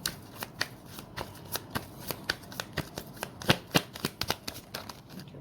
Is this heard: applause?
no